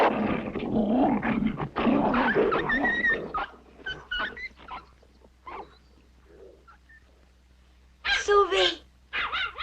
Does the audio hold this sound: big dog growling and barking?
yes